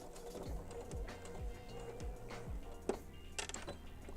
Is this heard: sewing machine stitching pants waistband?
yes